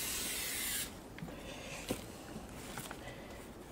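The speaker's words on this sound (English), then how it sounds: "Spray some more brake cleaner." A steady aerosol spray of brake cleaner hisses for under a second, then stops, leaving quiet room tone with a few small taps and rustles, during a brake disc and pad change.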